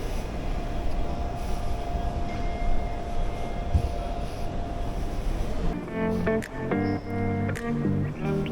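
A train at Seoul Incheon Airport rumbles past steadily, then gives way to a quieter interior with a chime-like tonal sequence in the final seconds.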